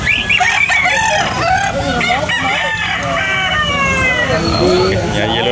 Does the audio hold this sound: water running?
no